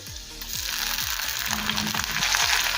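A medium-sized chopped tomato drops onto onions already fried red in a pan for Bengali rui posto, and the sizzle grows into a steady hiss over rhythmic scraping of a utensil.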